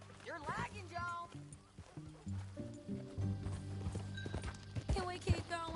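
Hooves of a filly ridden in Red Dead Redemption 2 clip-clop in a steady gallop, close and prominent, with a brief whinny near the start and voices talking throughout.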